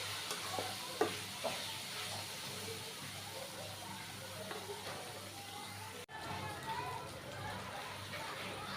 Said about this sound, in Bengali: আর এখন দিয়ে দেবো শুটকিটা পেঁয়াজের সাথে ভাজা নিব।